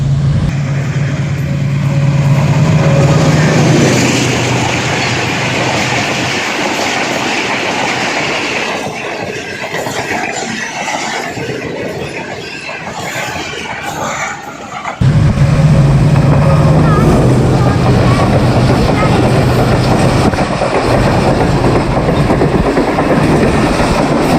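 An express train hauled by a GU 20 locomotive rolls through Mandra railway station, a loud, close, continuous rumble with clickety-clack wheels, a low engine drone and faint wheel squeal.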